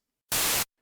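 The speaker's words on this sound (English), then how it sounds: "Basically, this is pure white noise." A single short burst of pure white noise, used as a snare sound in the Massive software synth, hits abruptly, holds flat for about a third of a second and cuts off cleanly, alone in silence.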